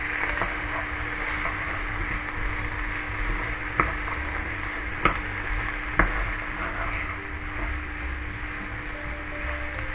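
Onions, carrots and mushrooms fry in a pan as they cook down for a bolognese, giving a steady close sizzle with a few sharp clinks and taps of a utensil against the pan.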